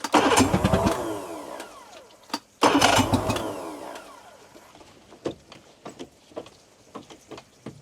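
A Scout 177 Sportfish boat engine, cold-started after sitting for years, cranks and catches in two loud bursts, then sputters and coughs unevenly as it fades to rough, intermittent firing.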